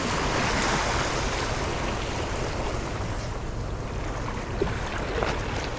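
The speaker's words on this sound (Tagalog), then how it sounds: "ang laking alon" Continuous rushing water and large waves churning against a fishing boat off Dubai, loud and broadband, with wind noise and occasional thumps throughout.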